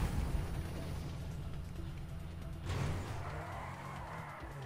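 A car in the GTA V video game falls and crashes, heard as a steady engine and wind rumble broken by a sudden heavy impact thud partway through, followed by scraping debris.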